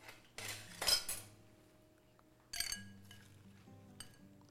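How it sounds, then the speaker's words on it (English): Tongs toss salad greens for a shrimp and grilled portobello salad, with a few close clinks and clatters of metal against a bowl in short bursts, quiet in between. "Let me grab a tongs to toss."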